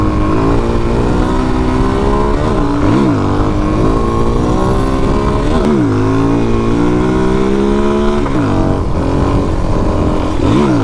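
A Suzuki DRZ400 dual-sport motorcycle accelerates hard, loud and close. The engine revs climb through several gear changes with rising and falling pitch sweeps, over constant wind noise.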